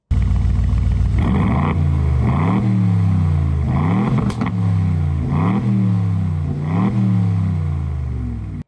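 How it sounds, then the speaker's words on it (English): A 2026 Aston Martin Vantage coupe's loud exhaust roars close by, revving repeatedly in rising sweeps, each climb followed by a drop and a deep burbling idle. "we're going to turn on the exhaust, and I want it to be loud."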